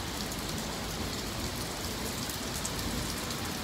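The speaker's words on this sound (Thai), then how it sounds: "จะอากาศดีมากๆเลยตอนฝนตก" Steady, dense rain falling outdoors in Surat Thani, Thailand, a continuous close hiss of drops pattering on surfaces with no other sounds.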